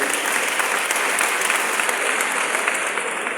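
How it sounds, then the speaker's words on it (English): Steady, dense applause from a sizeable crowd at a Society of Women Accountants of Nigeria event, loud and continuous throughout. "Let's clap for Mr. Olatopo."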